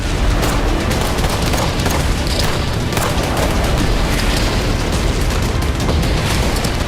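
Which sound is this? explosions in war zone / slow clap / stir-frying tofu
explosions in war zone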